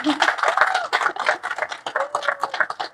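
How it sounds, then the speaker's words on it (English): A small audience gives a short round of applause, a few seconds of uneven, fairly close hand claps. "Give you a little round of applause."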